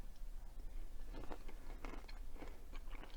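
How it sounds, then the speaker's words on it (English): Close, soft crunches come from a spoon or teeth digging into firm Amish baked oatmeal with crisp edges, a few irregular bites and scrapes over a quiet background with no talking. "you can hear a little crunch there when you dig into it"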